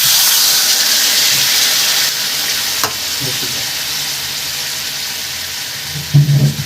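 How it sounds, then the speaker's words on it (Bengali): Hot masala for a Bengali shol fish curry hisses and sizzles loudly in the pan. The sizzle steadies and softens as water is poured in, with a faint clink of a utensil near the end. "এবার আমি জলটা দিয়ে দেবো, মশলা বাটি ধোয়া জলটা দিয়ে দেবো।"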